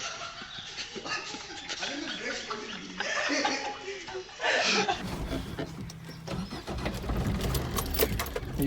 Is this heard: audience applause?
no